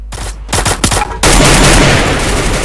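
Bursts of gunfire in the Free Fire battle royale game, loud and close: a few rapid shots, then a dense, sustained volley of automatic fire filling the rest of the moment.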